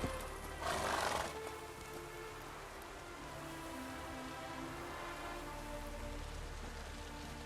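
Geralt's horse Roach in The Witcher 3 video game, racing through rain: steady rain patter fills the scene, with a brief louder surge early on and faint hoofbeats and a whinny beneath the downpour.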